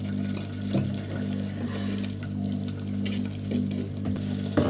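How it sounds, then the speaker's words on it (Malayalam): Water is poured into a curry pan seasoned with salt, coriander powder and chilli powder, a close, continuous splashing pour over a low steady hum, with no talk. "നമുക്ക് ആവശ്യത്തിന് വെള്ളം ഒഴിച്ച് കൊടുക്കാം"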